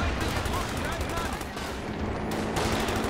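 Anti-tank gun shots in a real-time strategy video game, dense, heavy bursts of booming gunfire that run continuously under a commentator's voice.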